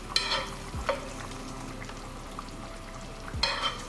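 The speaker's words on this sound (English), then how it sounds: "we'll let it simmer for 10 minutes" Fish molee gravy simmers in a pan with a soft, steady bubbling and faint sizzle, broken by a few brief utensil clinks and stirring scrapes near the start and end.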